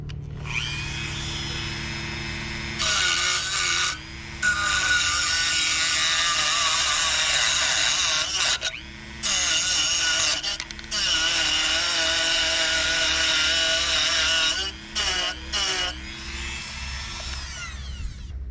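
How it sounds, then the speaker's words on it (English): A Dremel rotary tool fitted with a metal cutting blade whines at a high pitch while cutting through a construction nail. It comes in several bursts with short pauses, loud and close, and no voices are heard. "I am gonna utilize my dremel tool with a metal cutting blade attachment."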